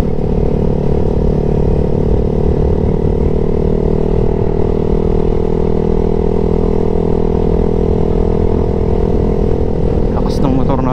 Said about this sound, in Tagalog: Lakas ng motor natin guys.